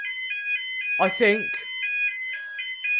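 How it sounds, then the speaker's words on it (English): A level crossing alarm of the type used at Colliford Station sounds a steady, pulsing electronic beep at close range, briefly interrupted by someone speaking a couple of words. "Colliford has 2 of these alarms with this exact tone."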